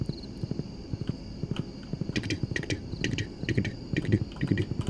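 Horse hooves clip-clopping steadily while riding in Stardew Valley, a quick irregular patter of light, close footfalls under faint game ambience.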